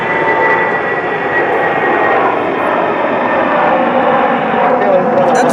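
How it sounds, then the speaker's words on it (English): Spirit Airlines jet airliner flying at Detroit Airport, its engines making a steady loud roar throughout with a voice speaking over it. "That's the jet. No, that's an old Spirit livery"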